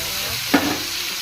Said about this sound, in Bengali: এবার আমি কেটে রাখা টমেটো কুচিগুলো দিয়ে দেবো